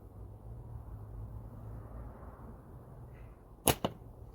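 A slingshot with Double Deez latex bands fired at a magic stringed target outdoors: a sharp snap of release and then a quick second hit, set against a low steady background hum.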